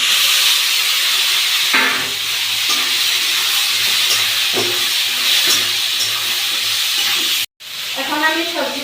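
Peas, potatoes and tomatoes sizzling in a pan of fried onions, a loud, steady close hiss of frying with occasional stirring scrapes, briefly cut off near the end before resuming.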